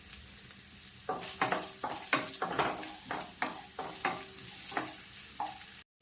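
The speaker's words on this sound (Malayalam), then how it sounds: "ഈ തേങ്ങാക്കൊത്തൊന്ന് നമുക്ക് വറുത്തെടുക്കണം." Crackling of coconut pieces frying in oil with rhythmic scraping strokes of a spatula stirring the pan, about a dozen strokes, close and fairly loud.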